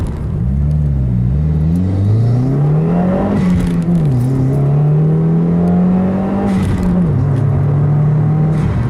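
A car engine with a Stage 1 intake and exhaust revs steadily for about nine seconds, its droning note rising and falling in pitch with a few throttle shifts, loud and close with a deep rumble.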